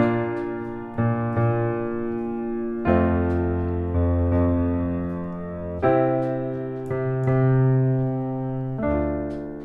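Piano left hand plays a bass-line accompaniment groove, deep notes struck in a repeating dotted-quarter, eighth, half-note rhythm across chord changes, with nothing else playing and no voices.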